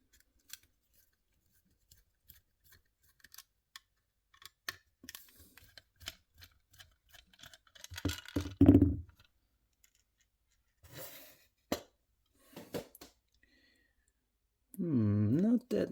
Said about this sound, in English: let's take it off the base